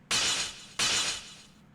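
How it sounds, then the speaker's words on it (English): Sky cracking in the video game Café Enchanté: two loud, bright shattering bursts like breaking glass, the second following closely after the first, each trailing off with a hiss. "Obstructing the melody, there's a sound of cracking in the sky."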